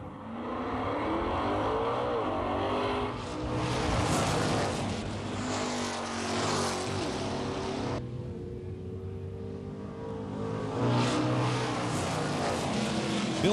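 1960s muscle cars, including a 64 GTO, blast down a nostalgia drag strip, their big engines roaring loud and steady for many seconds, with the pitch rising and shifting as the cars pull away.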